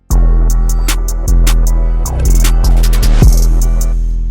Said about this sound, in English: I add this little transition before the kick